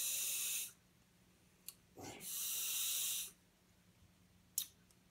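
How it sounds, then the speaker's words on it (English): Light unpowered draws on a Herakles Plus sub-ohm vape tank with airflow closed: two long breathy hissing pulls, the second preceded by a brief puff, then a short click-like hiss near the end, close and alone. "First I'm going to take some just light, unpowered pulls and close off the airflow"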